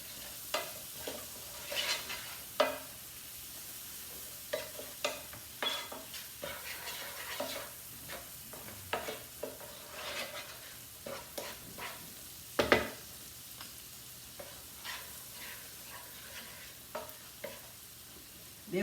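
Spices stirring and frying in oil in a pan for a pasta dish, with a steady low sizzle and repeated scraping stirs throughout, close and moderately loud, no talk.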